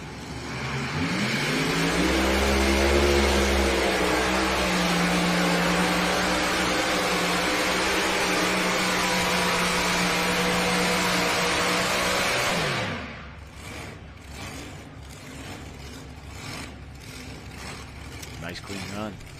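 Pulling tractor at a national tractor pulling championship in Bowling Green, a loud sustained engine roar with rising and falling pitch for about twelve seconds, then cutting out to a fainter idle as a commentator talks over it.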